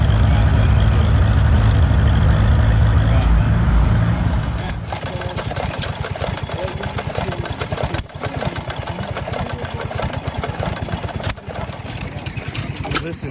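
A 24 horsepower farm tractor engine runs nearby, a loud steady mid-pitched chugging with a rapid even firing rhythm that settles into a lighter idle after a few seconds, with speech mixed in at times.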